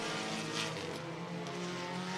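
A race car at Cottage Grove Speedway, Oregon, roars steadily and loudly throughout, its engine note holding a sustained, even drone with no break or fade.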